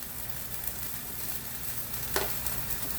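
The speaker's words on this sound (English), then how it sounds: "We're going to saute those" Wild mushrooms with onion and garlic sautéing in olive oil give off a steady, close sizzling hiss, broken once by a brief scrape of stirring.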